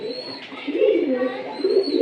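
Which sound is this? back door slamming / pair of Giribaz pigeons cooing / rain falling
pair of Giribaz pigeons cooing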